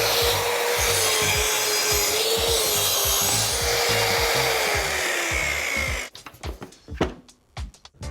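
A WEN track saw rips through plywood for about six seconds, a loud steady whining cut with a slowly falling pitch, then stops abruptly and leaves scattered knocks and handling clatter.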